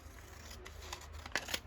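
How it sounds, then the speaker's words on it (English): Scissors trimming paper for a junk journal collage, giving a few faint, short snips close by, with two slightly sharper cuts toward the end over a quiet room. "Just going to trim that off"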